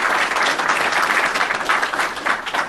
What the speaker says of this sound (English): I'd just like if everyone give a round of applause to our panelists.